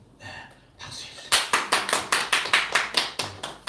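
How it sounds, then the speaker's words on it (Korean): A group at a church gathering claps in a regular rhythmic beat, about a dozen sharp, even claps, after a murmur of voices. "박수 해주세요."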